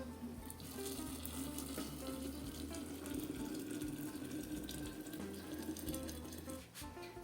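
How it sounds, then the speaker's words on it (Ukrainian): Boiled water poured from a kettle into glass jars of cherry drink with citric acid and sugar, a faint, steady gurgling pour that runs continuously, close by and quiet. "та заливаю кип'яченою водою"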